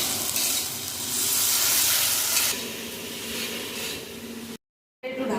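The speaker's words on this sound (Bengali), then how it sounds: "এবার সব কিছু এবারে একটু ভালো করে কষিয়ে নেব।" Prawns sautéed with salt, turmeric and spices in a pan give a loud, steady sizzling hiss with stirring. It eases slightly midway, then breaks off with a brief silence before resuming.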